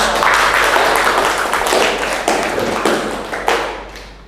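Applause for Pak Rubat after his school presentation on positive culture, a close, fairly loud burst of clapping from a small group that thins out and fades toward the end.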